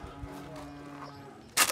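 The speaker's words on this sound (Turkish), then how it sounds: "Hayvanlarımız iri cüsseli, simental, besilik inek." A large-bodied Simmental beef cow being shipped from Kars gives a low, sustained moo at moderate distance, followed by a sharp brief click at the end.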